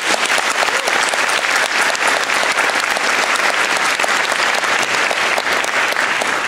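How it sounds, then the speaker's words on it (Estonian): Audience applauding after a graduation speech, a dense, sustained, loud round of clapping from a large crowd with no gaps. "Palun suur aplaus"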